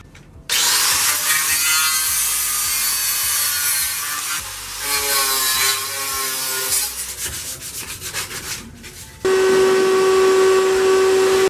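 Sanding the metal body of a 1965 Jeep CJ5 ahead of seam sealer and undercoating, a loud, close, steady power-sander whir and rasp that shifts pitch partway through before ending on a sustained tonal hum, with no talk.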